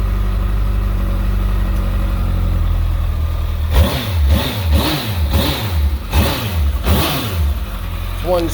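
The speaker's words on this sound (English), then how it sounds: "It's one snappy motor." A 2013 Kawasaki ZX14 motorcycle idles with a low, steady rumble, then gets a rapid series of about six sharp throttle blips that rise and fall in quick succession, loud and close, with a voice speaking near the end.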